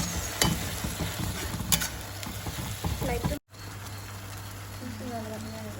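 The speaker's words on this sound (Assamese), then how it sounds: "পেস্টটো ঢালি দিলোঁ, পিঁয়াজ আদা নহৰু জলকীয়া পিঁয়াজ" Onion, ginger, garlic and chilli paste sizzles loudly in a hot pan for a mutton dish as a spoon stirs and scrapes, with a brief dropout and then a quieter sizzle under a faint voice.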